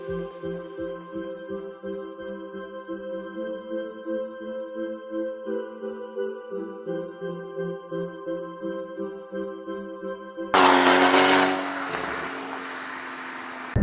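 Porsche Cayman GT4 with a 3.8-litre flat-six from the Carrera S driving along, a steady pulsing engine drone with rhythmic swells, then a sudden loud burst of broadband roar near the end that tails off.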